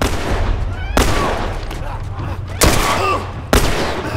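Three sharp handgun shots from the video game The Last of Us, spaced about a second apart, each a loud crack with a short ringing tail, over a low background rumble; a voice talks briefly between shots.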